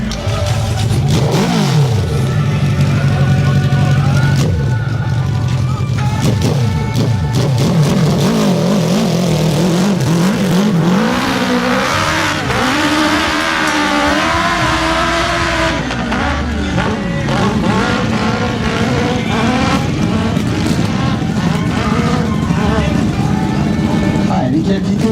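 A dirt bike motorcycle revs hard while climbing a steep hill in a hill-climb competition, the engine rising and falling in strained bursts, with a commentator talking throughout.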